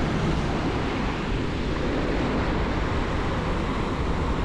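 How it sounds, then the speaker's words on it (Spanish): Choppy sea waves at a beach in Playa del Carmen, a constant loud surf wash mixed with gusty wind, steady throughout with no voices. "llevamos ya unos días que el agua está movida"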